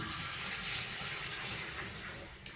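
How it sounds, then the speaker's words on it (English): Canned beans are drained through a fine mesh strainer into a kitchen sink, giving a steady, fairly faint rush of running water for the whole stretch with a small clink near the end. "I'm just going to use this fine mesh strainer to drain the beans directly into my sink"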